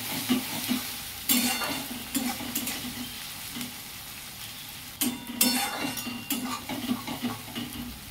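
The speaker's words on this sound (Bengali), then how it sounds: "আমার পেঁয়াজ ভাজা হয়ে গেছে।" Sliced onions fry in oil for a coriander chicken curry, a soft continuous sizzle broken by scraping stirs of a spatula against the pan, close and unhurried.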